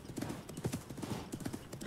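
Horse hooves in Assassin's Creed Mirage, a steady clip-clop of a ridden horse moving quickly, rhythmic and moderately close, with a faint whinny-like tone and soft background ambience.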